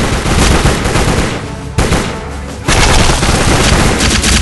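Rapid gunfire in the video game Secret Service: The Ultimate Sacrifice, loud sustained bursts of automatic shots with a brief lull near 1.8 seconds before the firing resumes even harder, no talking.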